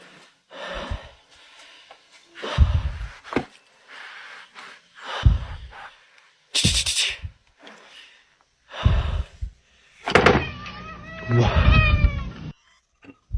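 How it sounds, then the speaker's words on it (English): Cats meow repeatedly in a ghost-hunting recording, with several distinct, fairly close cries and a drawn-out wail near the end, separated by quiet gaps and mixed with faint voices. "His cats seem to meow a lot"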